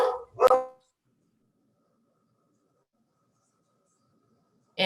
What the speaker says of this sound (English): Excuse me and my dog.